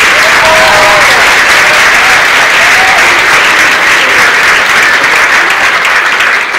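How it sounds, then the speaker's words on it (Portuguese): Loud, dense audience applause for the host at a talk on religions and mythology, a steady wash of clapping filling the room throughout with a few voices faintly underneath. "Pedir uma salva de palmas para o nosso anfitrião."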